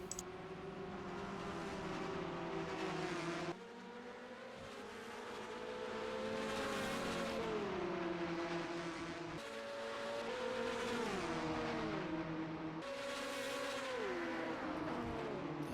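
Race cars in a sim racing endurance game with GTE and LMP2 cars, engines whining and rising through gears, with repeated shifts and pitch dips over a long steady roar.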